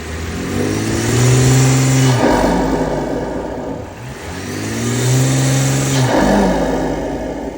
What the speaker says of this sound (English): Tolan's car just got the BN intake.